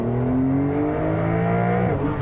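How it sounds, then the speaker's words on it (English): A 2021 Porsche 911 Targa (992) with the top closed pulls hard from 50 to 100 km/h in Sport Plus mode, its engine droning loud and steady with rising pitch, heard from inside the cabin. "And close top acceleration, let's put to Sports Plus, hey, and then 50 kilometers an hour to 100,"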